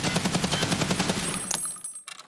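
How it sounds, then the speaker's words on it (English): A DT MDR 5.56x45 rifle fires full-auto in a video game, a rapid, steady stream of loud shots that stops abruptly, leaving brief echoing tails. "I'm just holding the fire button down and letting it go where it goes."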